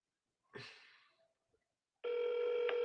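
A short burst of noise, a pause, then a steady electronic telephone ring starts and holds, loud and close.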